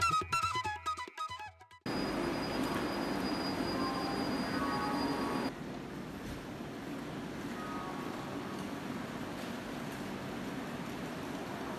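The Howrah-Barbil Jan Shatabdi Express stands at a station platform beside another express train: a low, continuous rail hum and hiss after a few sharp clicks at the start, moderately loud and without talk.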